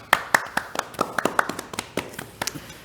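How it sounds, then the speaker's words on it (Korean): Sparse, uneven clapping from a small group at a business workshop, individual claps sharp and distinct, lasting a few seconds. "여러분들 큰 박수 부탁드리겠습니다"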